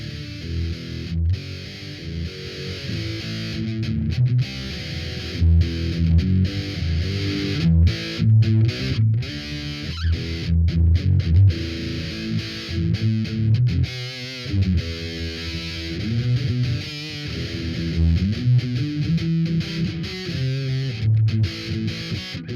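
An LP-style electric guitar runs through a small DOD Grunge transistor amp, giving a fuzzy, heavily scooped distortion. It plays loud, continuous riffs with chords and single-note lines on its own, with no talking.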